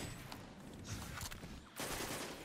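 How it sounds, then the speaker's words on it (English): A tractor cannon weapon firing in a video game, a steady barrage of heavy rapid shots that briefly dips and then surges again, fairly faint and distant. "It's a tractor cannon?"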